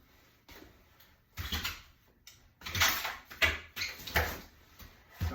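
A home kitchen freezer squeaks and chirps in a string of short, shrill, droid-like bursts, close and fairly loud, with no talking over it.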